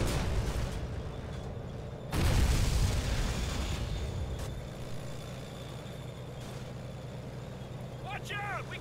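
Armored vehicle rumble and explosions in the Call of Duty 2 Tunisia campaign, with a loud boom bursting out early over a constant low engine drone and battle noise, while voices talk throughout.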